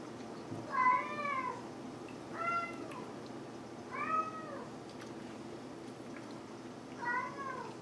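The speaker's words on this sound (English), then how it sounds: "meowing in the background" A cat meows four times in the background, each cry rising and falling and spaced a couple of seconds apart, faint against a quiet room.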